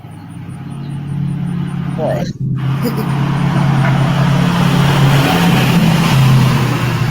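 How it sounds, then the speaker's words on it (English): A truck speeds past on a rural road, a loud, steady roar of engine and tire noise that swells and holds close by, with a brief voice heard under it. "This one guy that the truck that you just heard, he comes flying through here like that every single day"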